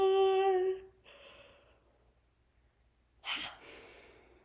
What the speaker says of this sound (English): and I'm gonna yawn